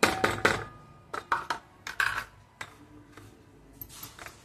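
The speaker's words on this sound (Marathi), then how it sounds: "हे आपण ताटातच असं मिक्स करून घेऊ चांगलं." Coarse homemade papad masala spice mix stirred by hand in a metal plate, giving a series of close, light clinks and scrapes in irregular bursts with short pauses between.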